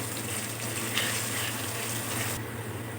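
Salted onions fry in a pan with a steady, close hissing sizzle that continues evenly, with no talking over it.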